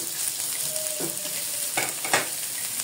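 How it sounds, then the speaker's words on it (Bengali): Garlic, green chilies and onions frying in oil in a pan for a dried-fish bhorta, a steady close sizzle broken by a few brief stirring scrapes, with no one talking. "এখন আমি এর সঙ্গে পেঁয়াজগুলো দিয়ে দিলাম। পেঁয়াজগুলো একই সঙ্গে তেলে নিব।"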